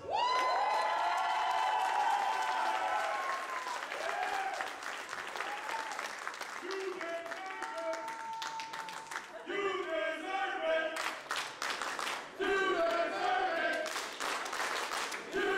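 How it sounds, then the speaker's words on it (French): Crowd at a live wrestling show applauding and cheering, loud sustained clapping with shouts and whistles rising and falling over about fifteen seconds, surging again near the end. "La foule qui montre tout le respect qu'elle a pour Yane Harrison."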